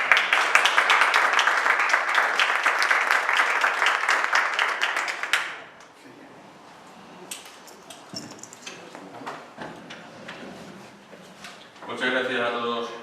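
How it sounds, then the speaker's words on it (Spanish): An audience at a lecture in Alicante applauds to welcome the speaker, dense sustained clapping for about five seconds that then fades to scattered claps and room noise, with a voice speaking near the end. "vamos a recibirlo con un fuerte aplauso"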